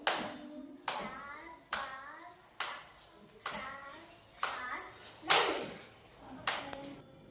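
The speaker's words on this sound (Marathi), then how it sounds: "दहा दहा टाळ्या वाजव बघू" A child in a first-grade maths lesson clapping hands to count out numbers, about nine separate claps spaced roughly evenly, each with a faint short ring, close by, with a voice speaking softly between them.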